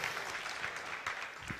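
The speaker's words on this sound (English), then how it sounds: "Let's have a round of applause for them." Audience applause at a speaking event, a steady spread of many hands clapping, fairly faint and continuous throughout with no talk over it.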